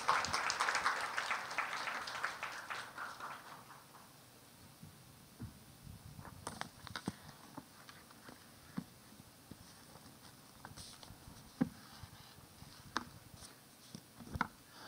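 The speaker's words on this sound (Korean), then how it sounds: "우리 기쁜 마음으로 우리 박수로 좀 환영해 볼까요?" Church congregation at a Korean young adults' Sunday service applauding to welcome a preacher, a dense wash of clapping that is loud at first and fades after about four seconds into scattered claps and small shuffling sounds.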